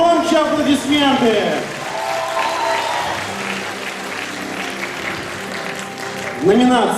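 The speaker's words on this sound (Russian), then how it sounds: "Громче аплодисменты!" Audience applause at a Miss 2010 beauty pageant awards ceremony runs beneath an announcer and music, with speaking voices at the start and end framing a quieter, steady patter of clapping in the middle.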